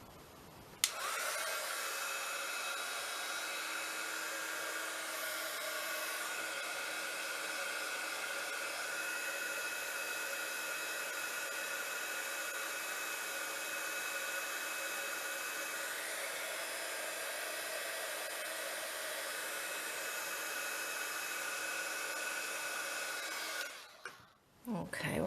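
A heat tool blows hot air to shrink plastic scraps for crafting, a steady whirring hiss running unbroken for over twenty seconds before cutting off.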